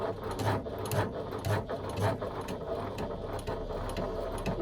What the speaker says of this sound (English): I'm going to stitch along the bottom here using an 1/8 of an inch seam allowance